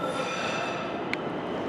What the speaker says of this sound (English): The train's coming. Train's coming. You can hear it.